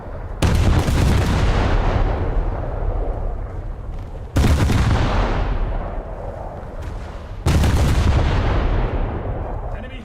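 Three loud, booming naval gun salvos from warships in a World of Warships-style naval battle game, each a heavy blast with a long rumbling decay, spaced about four seconds apart.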